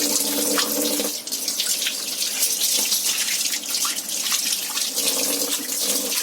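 Goat intestines scrubbed by hand under a running tap, water splashing steadily into a sink for the whole stretch, with brief pauses in the rubbing and no talk.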